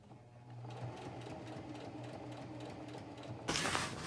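Sewing machine top stitching through X-Pac and nylon lining fabric for a gym bag, a rapid, even mechanical whirring chatter running steadily, growing slightly louder and brighter near the end, close and alone.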